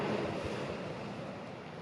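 Steady wind buffets an open beach during a sea fishing session at Bossington, a broad continuous rush with low rumbling gusts and faint surf texture throughout, no voices.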